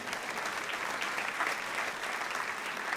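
Congregation claps loudly and continuously for the King of Kings at a church gathering, a dense, sustained wash of applause with no speech over it.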